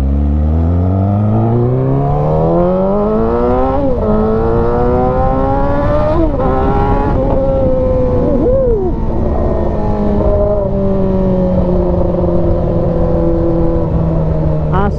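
A Yamaha R6 sport motorcycle engine revs loud and close for the full stretch, its pitch climbing in repeated surges and then holding a steady high drone, with no talk over it.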